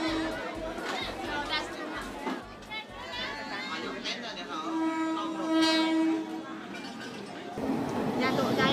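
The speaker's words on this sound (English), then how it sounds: "Oh, it's time for the train?" A train rumbles past close by through a market in Bangkok, Thailand, its horn sounding steadily among the clatter of wheels, while a busy crowd chatters around it.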